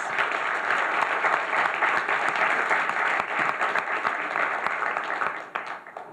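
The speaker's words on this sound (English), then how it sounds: "big round of applause" An audience at a Taipei internet governance forum's closing plenary gives sustained applause, a dense and even wash of clapping that eases slightly at the end.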